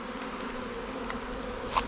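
A steady, dense insect buzz of many honeybees swarming in September, droning together, continuous and fairly loud, with no voices.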